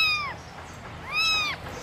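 A small kitten gives two thin, high meows about a second apart, faint and close, against a soft background hiss with no talking.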